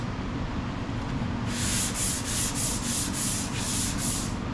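After a second of background hum, a sanding sponge rubs across a wooden cutting board in about eight quick, even back-and-forth strokes, close by.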